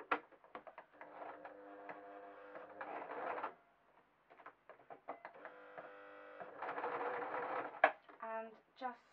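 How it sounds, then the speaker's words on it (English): A sewing machine stitches felt and fake fur for toddler slippers. It whirs quietly in two longer runs, and light clicks and handling sounds fill the gaps between them. "I'm going to sew"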